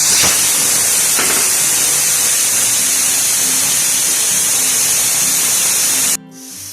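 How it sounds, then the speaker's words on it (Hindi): A loud, steady hiss of steam rushing out of a pressure cooker as it is opened, a couple of faint clicks early on, then it cuts off abruptly near the end. "अब मैं प्रेशर कुकर को खोलती हूँ।"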